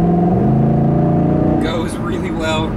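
A 2010 Ford Mustang GT Premium V8 revving while driving, a loud close engine drone with a strong low note that climbs in pitch, then drops away near the end as higher noises take over.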